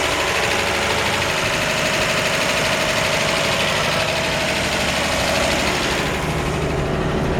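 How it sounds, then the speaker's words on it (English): A 1950 Chevrolet 3100 pickup engine with a brand new carburetor idles slightly high, loudly and continuously nearby, a rough, steady rumble with a slightly fast, knocking beat. "You can really hear how healthy that engine is. I know that the idle is a little high there."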